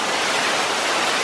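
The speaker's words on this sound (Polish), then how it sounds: "tutaj jest taki wodospad" Broad, steady rush of falling water from a waterfall at an outdoor location, dense and continuous with no break, loud and close, no voices over it.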